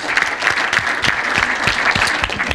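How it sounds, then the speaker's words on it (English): Steady, dense applause from a crowd, continuous hand claps filling the whole stretch with no voices over it. "give yourself a round of applause before I even start this"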